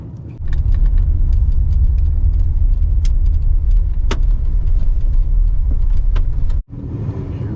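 A vehicle driving on a gravel road gives a loud, steady rumble of tires and engine close inside the cabin, with small rattles and sharp ticks, a brief dropout near the end, and no talk.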